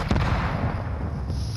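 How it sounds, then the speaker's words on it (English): Gunfire in a video game: a dense, loud burst of rapid overlapping shots and booming reports filling the short moment, close and continuous, no voices. "just scare him away with a couple of shots"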